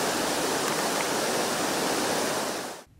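The Fourteen Falls waterfall on a polluted green river, a loud, continuous broadband roar of rushing water that cuts off abruptly near the end.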